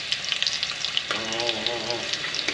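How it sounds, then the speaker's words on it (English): Country ribs sizzle while sautéing in a pressure cooker, a steady close frying hiss with crackles, and midway a voice-like tonal whine rises over the sizzle briefly. "So I'll saute them, take these out, and then I will put the other 3 in."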